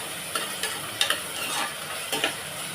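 Tomatoes and onions sauté in a pan for chicken kurma, giving a steady close sizzle broken by several sharp scrapes and clinks as a spatula stirs them, with no talking.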